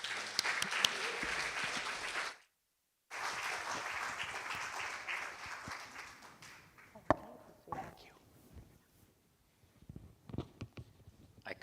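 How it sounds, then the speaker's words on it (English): Audience applause at a Sunday church celebration service, a broad steady wash of clapping that breaks off briefly, resumes, then thins to scattered claps and small room noises as a man begins to settle in. "Please give him a great round of applause."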